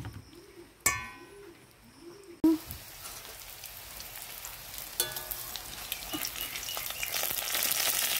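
Bora fritters of mixed batter frying in hot oil, a steady crackling sizzle that builds and thickens after a couple of sharp clatters near the start, with a few faint chirps early on.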